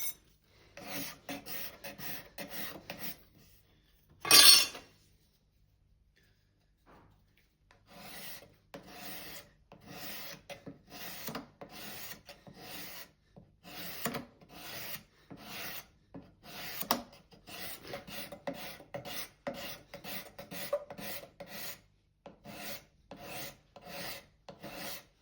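A scraper rasps varnish off the body of a wooden hand plane in repeated short strokes, one loud sharp scrape near the start, then a steady rhythmic run of rubbing strokes, with no talk.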